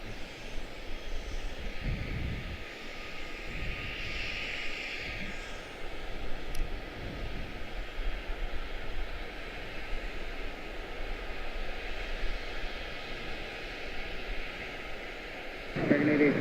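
An airliner on the runway at Charlotte-Douglas International Airport: a faint, steady engine hum with a low rumble, heard at a distance and swelling slightly at the end.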